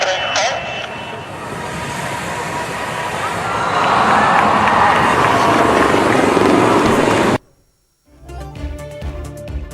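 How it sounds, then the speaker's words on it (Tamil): Indian Air Force ALH MKI helicopters flying in a parade, a loud broad rotor and engine roar building and holding, then abruptly cut, with music following. "இந்திய விமானப்படையின் ALH MKI ஹெலிகாப்டர்களின் அணிவகுப்பு."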